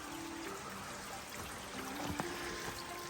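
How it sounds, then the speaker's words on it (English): A small, lightly flowing drainage stream trickles across a hiking trail near Crabtree Falls on the Blue Ridge Parkway, a steady soft wash of water with faint outdoor background. "Not a very heavy flowing drainage, but there is a little water crosses the trail here"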